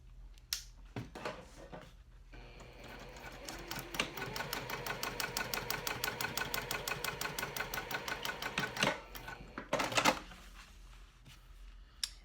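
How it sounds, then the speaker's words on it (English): A sewing machine stitching with beige thread, size 4 stitch length and a Schmetz Microtex size 14 needle, for a teddy backpack: a quiet motor hum, then a rapid, even run of needle thumps for about five seconds, close by, ending with a few clicks. "now I'm gonna, with beige thread, I'm going to stitch all of this"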